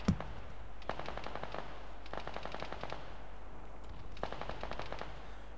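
Three bursts of rapid automatic gunfire in the video game ARMA 3 crackle at moderate distance, each a quick string of sharp shots, separated by brief pauses over a low steady hum.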